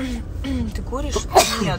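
A single sharp sneeze bursts out near the end of a lively indoor conversation on a live broadcast, loud and close, with people talking before and after it.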